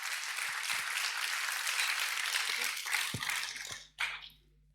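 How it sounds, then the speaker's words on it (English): Audience applause closes a conference talk, steady and moderately distant before tapering off, followed by a few scattered claps and then quiet. "A round of applause."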